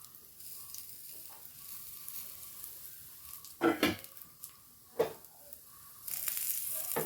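Three eggs with crushed chili and coriander leaves sizzle softly and steadily in a pan. A few louder scraping clatters come from stirring or turning, and the frying grows brighter near the end.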